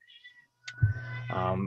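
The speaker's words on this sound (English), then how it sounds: "Please pardon my cat, he gets jealous." A jealous house cat meows close by during an online community committee meeting, a short plaintive call breaking through a quiet room, followed by a longer drawn-out meow.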